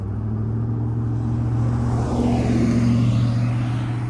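A motor vehicle passes nearby during an outdoor dog training session, its low, steady engine rumble and droning hum swelling slightly midway before easing off.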